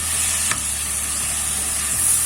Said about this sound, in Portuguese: a gente vai refogar a cebola e o alho na manteiga